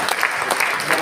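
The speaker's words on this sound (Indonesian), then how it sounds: "Tepuk tangan." An audience at a Betawi community year-end reflection event in Jakarta breaks into applause, a short burst of dense clapping at fairly close range with no talk over it.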